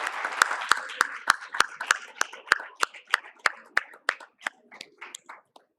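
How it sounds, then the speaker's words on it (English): A short burst of hand clapping, sharp claps that start dense and thin out into a few scattered final claps. "can we give them a round of applause?"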